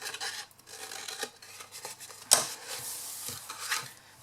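Scissors snip through the cardboard lid of a handmade decorated box, with soft cutting and rubbing sounds and one sharper snip midway, close and moderately quiet, no talking.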